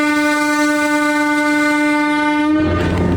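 Slow locomotive on the Kurigram to Chilmari line sounds a long, loud, steady horn blast that cuts off near the end, leaving rumbling running noise from the moving train.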